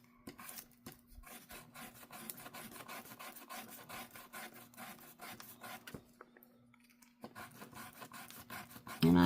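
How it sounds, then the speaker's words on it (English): Quiet, close rhythmic scratching of sandpaper along the edges of an altered paper card, a run of short rasping strokes with small gaps, ending in a louder bump. "sanding just the least little bit before I knock it off here"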